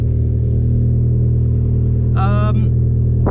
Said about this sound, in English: I'm having to shout over my exhaust because we're on a cold start while driving